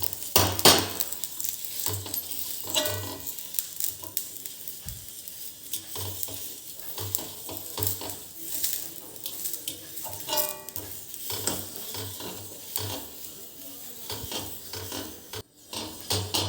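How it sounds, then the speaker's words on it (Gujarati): A potato slice is rubbed around a pan with oil and water, making a steady scraping, swishing sound with soft sizzling and occasional metallic clinks, close by and without voices. "હવે આવી કોઈ બટાકાની સ્લાઇસ હોય એનાથી આવી રીતે એને ઘસી લેવાનો।"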